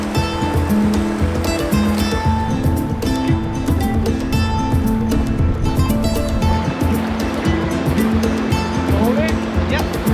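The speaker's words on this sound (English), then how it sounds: "Getting into the white water, right?" White water rapids on the Aguanish river rush in a constant, loud roar of churning water, with people talking over the steady flow.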